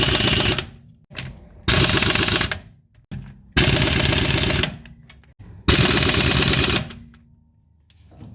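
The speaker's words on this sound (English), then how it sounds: "When you turn the nuts on with the air pistol" Pneumatic impact wrench driving wheel nuts onto a Mazda MX-5, set to its lowest power: four loud, close bursts of rapid hammering, each about a second long, separated by short pauses and lower mechanical hum.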